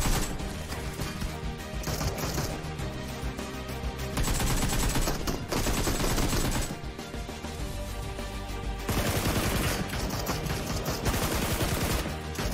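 Rapid video game gunfire bursts loud and continuous, dense fusillade-like volleys with brief pauses, heard as a game being watched with no talk over it.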